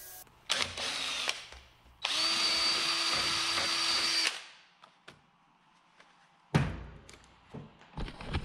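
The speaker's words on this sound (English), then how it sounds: "And then I'll grab my drill." A power drill whines loudly in two long bursts grinding into a metal sealed bearing, followed by a few clunks and a brief final spurt of drilling.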